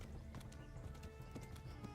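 Rapid rhythmic hoofbeats of a galloping horse in the video game Kingdom Come: Deliverance, with a brief whinny over steady thudding, close and continuous.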